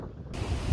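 Strong wind roars and buffets the microphone on a Cotswold Way footpath during a weather warning, a low rumbling gust that swells louder toward the end.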